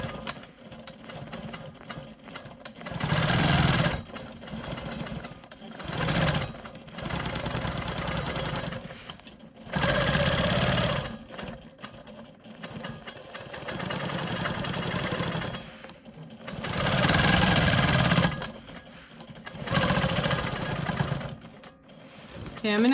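Quilt Maker Pro 20 quilting machine stitching smoky swirl patterns on a rainbow quilt block, whirring in repeated bursts that rise and fall in intensity, near and steady, with quieter gaps between runs.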